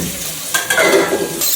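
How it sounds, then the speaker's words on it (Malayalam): Cabbage, capsicum, carrot and green chili being stir-fried for noodles, giving a close sizzle with scraping and stirring clatter from the pan that grows busier partway through. "അപ്പൊ നമുക്ക് വേണ്ട കട്ട് ചെയ്ത് വെച്ചേക്കുന്ന ക്യാബേജ് ക്യാപ്സിക്കം ക്യാരറ്റ് പച്ചമുളക് കൊടുക്കുക"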